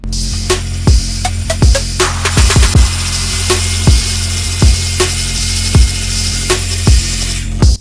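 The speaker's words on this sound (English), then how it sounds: "And now we blend." Kitchen blender whirring steadily while blending baking ingredients, a loud continuous motor drone with repeated sharp knocks and clatters as contents hit the jar, running alone throughout.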